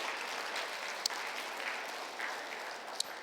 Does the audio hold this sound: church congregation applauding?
yes